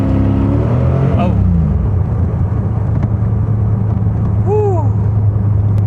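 A 1985 Chevy Corvette parts car rescued from a Florida swamp revs hard and loud with a steady engine drone and a brief whine as the rear tire spins; a voice exclaims over it.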